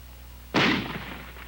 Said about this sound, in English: Here's a rifle grenade.